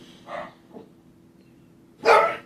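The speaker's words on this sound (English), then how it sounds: "Neighbor's dogs, I tell you. My baby's trying to sleep, and they keep barking." Neighbor's dogs barking, two softer barks early followed by a louder bark near the end, with quiet gaps between them and no speech.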